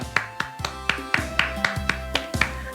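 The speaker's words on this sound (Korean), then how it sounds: "오늘도 하나님께 영광의 박수 올려드립니다" A church congregation at a Wednesday worship service claps in a steady, rhythmic beat of sharp, evenly spaced claps, moderately quiet and without voices.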